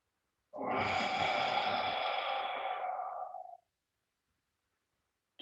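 One long, audible inhale through the nose during a meridian stretching exercise, close and clear, lasting about three seconds and then silence.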